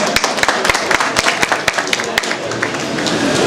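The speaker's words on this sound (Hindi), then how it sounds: "तालियां होनी चाहिए मेरे भाई" An outdoor crowd at a bird farm function in Hazro, Pakistan, breaks into loud, close applause. Crisp individual claps ring out rapidly over a rustling wash of hands before thinning toward the end.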